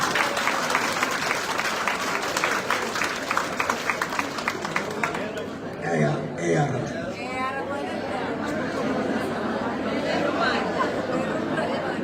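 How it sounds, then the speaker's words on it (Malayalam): An audience at a film event breaks into loud, dense applause for about five seconds, which then stops abruptly and gives way to people talking and murmuring. "നല്ലൊരു ക്ലാപ്പ്."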